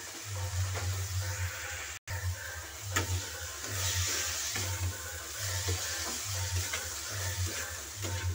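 Cleaned pond snails fry in a pan with capsicum, making a continuous close sizzle broken by regular scraping strokes as they are stirred.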